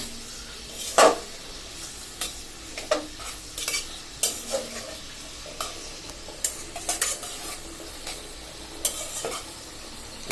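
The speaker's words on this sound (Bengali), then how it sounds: "কফি ভাজি করার জন্য আমি পেঁয়াজ রসুন কাঁচামরিচ তেলে ভেজে নিচ্ছি ভালোভাবে" Onion, garlic and green chilies fry in oil for stir-fried cabbage, a low continuous sizzle dotted with frequent clinks and scrapes of a spoon stirring against the pan.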